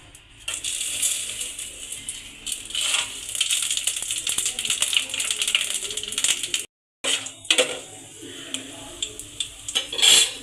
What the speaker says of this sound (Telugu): ఆయిల్ వేడెక్కాక మసాలా సామాన్లు వేసుకోవాలి.